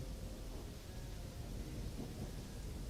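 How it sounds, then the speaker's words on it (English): Thunderstorm from the video game Thronebreaker: heavy rain pours steadily with deep rumbling thunder underneath, loud and continuous throughout with no voices. "The storm raged the night through, then finally passed before dawn."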